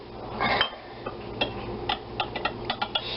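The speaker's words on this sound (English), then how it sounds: "With our nice little whisk" A small whisk taps and clicks against a bowl while stirring a milk mixture, giving a series of light, quick, uneven ticks close by.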